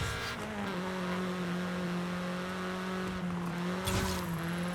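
A front-wheel-drive Toyota in Forza Horizon 5 sliding into lift-off oversteer, the engine holding a steady droning tone, then a brief tire squeal and a higher whine near the end.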